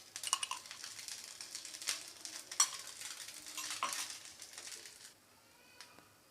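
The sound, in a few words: Maggi noodles frying in oil on a tawa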